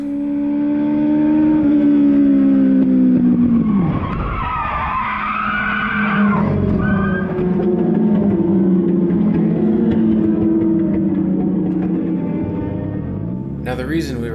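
A race car running laps on a crowded track during practice, its engine tone rising and falling continuously and close by, with tire skidding mixed in and a voice talking over it throughout.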